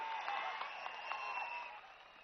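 A crowd at a political speech gathering in Madakasira claps in a distant, muffled patter that fades toward the end.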